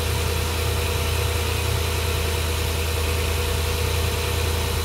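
A Toyota/Lexus 4.7 V8 engine idles just after a valve cover gasket replacement, giving a steady, even, close-up hum and rumble that holds constant throughout with no talking.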